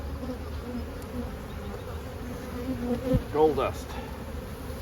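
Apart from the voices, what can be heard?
honeybees buzzing on frames from a nuc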